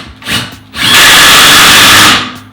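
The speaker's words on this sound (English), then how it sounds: "So just go ahead and pop those screws in." A power drill drives screws into timber while a wooden worktop is built: a brief whir first, then a loud, close, sustained high whine lasting over a second before it stops.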